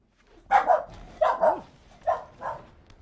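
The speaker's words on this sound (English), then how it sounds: "Our dog just barked a lot." A dog barks repeatedly in pairs of sharp, loud woofs, four or so bursts spaced evenly across a few seconds, fairly close and with no talking over it.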